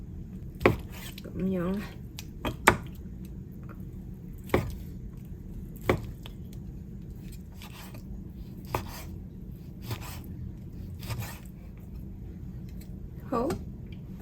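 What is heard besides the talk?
knife chopping lean meat into slices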